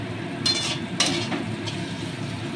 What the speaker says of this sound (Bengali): এবার আর একটু ভাজবো, তারপর লঙ্কা দেবো।